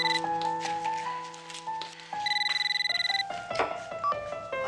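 A telephone rings with a repeating electronic tone pattern, clear and fairly loud, while someone calls their mother.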